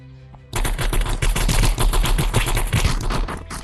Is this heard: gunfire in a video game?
yes